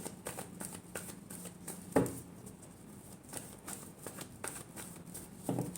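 Tarot cards being shuffled by hand, soft papery riffles and taps in irregular bursts with a couple of sharper slaps, close and fairly quiet, with no one speaking.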